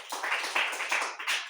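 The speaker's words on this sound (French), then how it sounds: "Applaudissons pour le Seigneur." A short burst of applause from a congregation at a French-language church service, several quick rounds of clapping rising and falling in just over a second.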